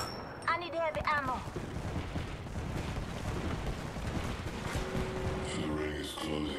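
Rapid gunfire in the battle-royale shooter Apex Legends: a dense, continuous rattle of shots runs through most of the moment, with a brief game voice line and effects near the start.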